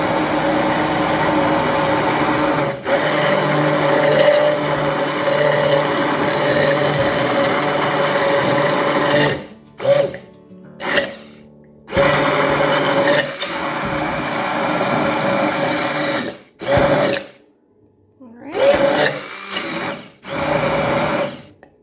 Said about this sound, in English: we're just going to start blending